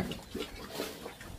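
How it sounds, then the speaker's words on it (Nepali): Pigs grunting nearby, a sow and several piglets, with short low snorts and grunts repeating in quick succession over a brief moment. "सुँगुरहरू"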